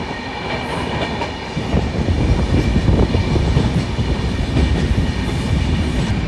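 A train running past a long rake of rail coaches near a rail coach factory, a loud continuous rumble with rhythmic clickety-clack of wheels that grows stronger partway through, close by and with no voices.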